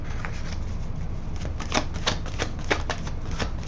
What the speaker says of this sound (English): Let's shuffle these cards here